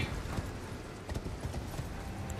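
Horse hooves pounding in Elden Ring: Shadow of the Erdtree as the mount jumps, giving irregular clip-clop thuds under dense, loud game ambience.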